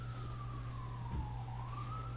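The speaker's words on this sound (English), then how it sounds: "that's the ambulance" An ambulance siren wails outside as it passes a rural New Hampshire town meeting room, a steady tone drifting down then up again, moderately distant over a low room hum.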